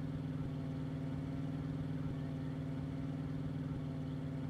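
A car engine from the farming video game Real Farm runs at a steady idle, a constant mid-pitched drone with a faint regular pulse and no voices.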